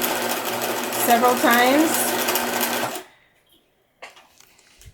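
A sewing machine runs steadily for about three seconds while back stitching the seam of a cross stitch pillow, then stops abruptly; a voice talks over the motor's hum and a few faint clicks follow.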